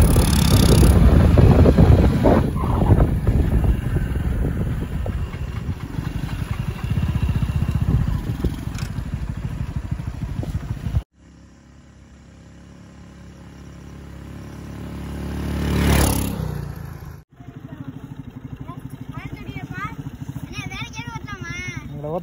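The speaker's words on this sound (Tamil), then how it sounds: "ஒவ்வொரு த்ராட்டலுக்கும் நல்லா அதோட பிக்கப் வந்து தெரியுது" A homemade mini RX100-style bike powered by a scooter engine rides past with a steady, loud engine drone and heavy wind buffeting, then a revving pass that rises and fades before a short, quieter stretch.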